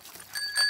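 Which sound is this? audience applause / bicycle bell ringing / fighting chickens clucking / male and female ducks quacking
bicycle bell ringing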